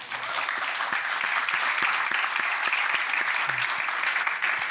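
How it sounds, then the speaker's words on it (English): A conference audience claps steadily for several seconds after a talk, a dense, even wash of applause with no voices on top. "Round of applause first."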